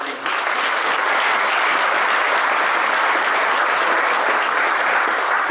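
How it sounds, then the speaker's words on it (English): Sustained applause from a conference open house audience, a dense, even roar of clapping hands that fills the room at steady loudness from start to finish. "So I want to give Derek a round of applause for all the passion and things"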